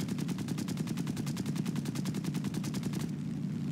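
Rapid cannon fire from a Hurricane fighter in War Thunder, a steady fast burst of evenly spaced loud shots for about three seconds, then stopping abruptly over continuous engine drone.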